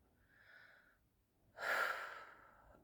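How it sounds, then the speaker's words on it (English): Deep breathing during meditation: a soft, faint inhale followed by a louder, airy exhale, close and unhurried. "Take a few deep breaths in and out."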